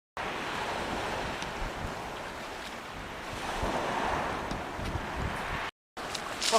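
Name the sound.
wind on a beach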